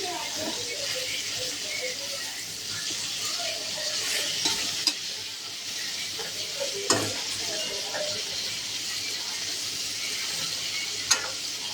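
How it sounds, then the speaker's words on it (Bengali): Pointed gourd (potol) fries in a pan as it is stirred. A steady close sizzle carries through, broken by a few sharp clinks of the spoon against the pan. "পটলের ভাজা এটা।"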